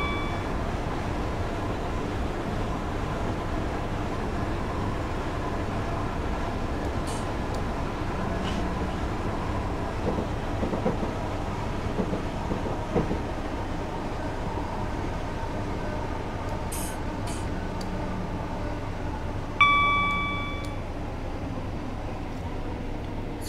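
A two-car Class 456 electric train running in Train Simulator 2019 between London Bridge and Victoria, a steady low rolling hum and track noise with occasional faint clicks and a brief tonal chime near the end.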